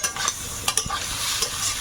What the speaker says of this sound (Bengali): ভাজাটা হয়ে এসছে এখন একটু জিরে গুঁড়ো দিলাম